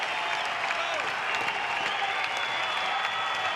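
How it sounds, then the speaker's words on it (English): Stadium crowd at a 2025 NCAA baseball super regional game between Oregon State and Florida State cheers and applauds in a steady, dense roar, loud and continuous throughout with a few whistles rising above. "And this crowd is feeling it."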